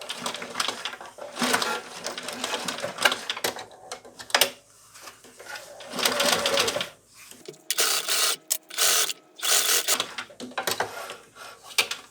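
Sewing machine stitching the seam of a fabric mitten's outer layer, running in several separate bursts of rapid mechanical whirring with short pauses between them, fairly close and steady.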